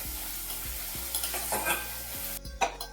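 Onion frying in oil for pav bhaji sizzles steadily close up, with repeated scraping stirs and a few louder clatters toward the end.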